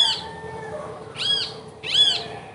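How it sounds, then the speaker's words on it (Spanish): Several birds chirp and call in the early morning near a garden of flowering plants, with three bright bursts of song rising over a soft, steady background. "Ya llegaron las aves a cantar"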